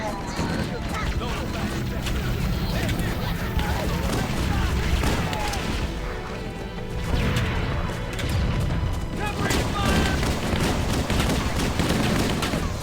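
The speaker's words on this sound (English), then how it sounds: "I always forget that the pistol is automatic. I can just hold down the trigger." Dense, continuous gunfire and explosions fill a Halo combat scene with rapid overlapping shots and crashes throughout. A voice talks over the din.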